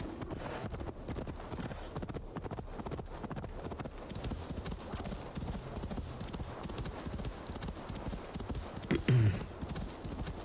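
Hooves clip-clop steadily on the ground in a Viking-era game scene with snow horses, a dense, even rhythm throughout, ending in a short neigh near the end.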